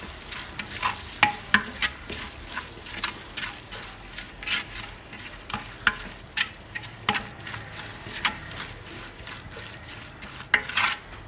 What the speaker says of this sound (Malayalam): എന്നിട്ട് ഇതെല്ലാം കൂടെ ഇട്ടിട്ട് നമുക്ക് ഒന്ന് ഇളക്കി കൊടുക്കാം